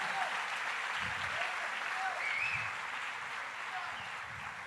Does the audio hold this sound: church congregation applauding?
yes